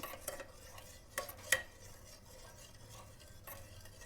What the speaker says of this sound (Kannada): ಮಿಕ್ಸ್ ಮಾಡ್ಕೊತಾ ಇರಬೇಕು ಲೋ ಫ್ಲೇಮಲ್ಲಿ ಇಟ್ಕೊಂಡು ಸ್ಟವ್ನ